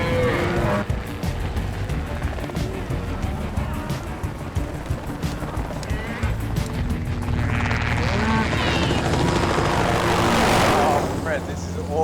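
A helicopter works cattle in the remote Australian outback, its rotor and engine droning steadily under people talking, with bursts of louder mechanical noise near the end.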